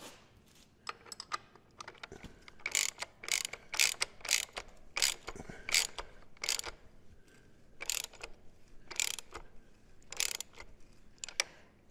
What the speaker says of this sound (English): I'm just going to snug these up with a regular ratchet